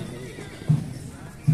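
A mare at a horse market neighs in two short whinnies close by, heard over a busy crowd murmur.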